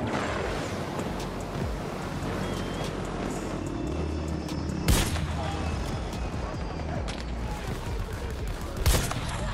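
Gunfire in Battlefield 2042, with the NTW-50 anti-materiel rifle among the shots: two sharp loud cracks about four seconds apart over a constant din of distant battle and aircraft noise.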